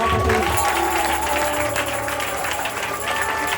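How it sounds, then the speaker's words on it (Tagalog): A church congregation applauds together during a worship service, producing a dense, steady wash of clapping from a crowd that holds for a few seconds, with voices mixed into it. "Isang malakas na palakpak sa ating Panginoon, mga kapatid"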